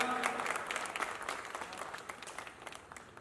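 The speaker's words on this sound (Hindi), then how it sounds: "एक बार उनके लिए जोरदार तालियां।" Enthusiastic audience applause at a Hindi poetry gathering in Dahisar, a crowd clapping steadily from a distance, fairly faint, tapering off toward the end.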